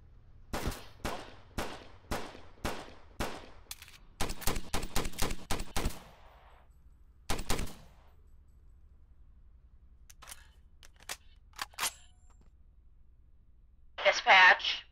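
Gunfire during a police shootout in a city-set video game: bursts of sharp separate shots in quick runs, then a few scattered single cracks, clear against near silence with brief voices.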